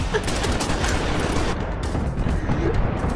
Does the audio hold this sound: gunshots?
yes